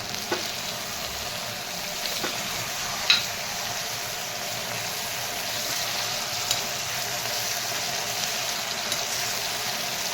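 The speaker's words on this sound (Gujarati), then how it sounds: "બેથી ત્રણ મિનિટ આપણે એને તેલમાં ચડવા દઈશું" Continuous, even sizzling of cluster beans and potatoes cooking in hot oil, with a few faint clicks and taps from stirring over the steady crackle.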